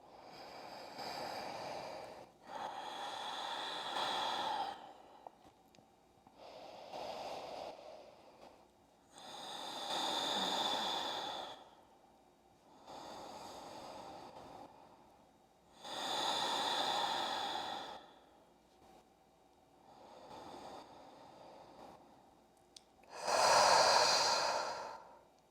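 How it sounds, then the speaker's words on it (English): A person practising yoga breathes slowly and deeply, with long audible inhales and exhales of loud, airy, close breath in a steady cycle of about six breaths, each separated by a brief quiet pause, and no talking. "Keep breathing."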